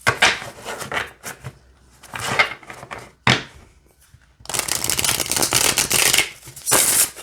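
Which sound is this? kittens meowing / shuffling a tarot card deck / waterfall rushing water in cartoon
shuffling a tarot card deck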